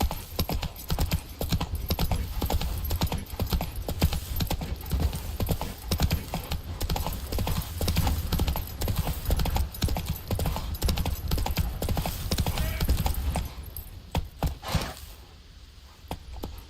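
Roach, a horse in a video game, gallops without a break in a steady fast clip-clop of hooves that runs loud and close nearly the whole time, then tapers off near the end.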